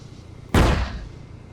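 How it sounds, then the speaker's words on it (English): A single 105 artillery shell explosion in a video game lands as one sharp, loud boom that decays over about half a second against low background noise. "And then you can also see the explosions hit."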